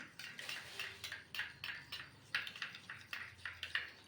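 A spoon stirs mango kulfi mixture in a bowl, giving a steady series of light clinks and scrapes in a quiet kitchen, repeating roughly twice a second.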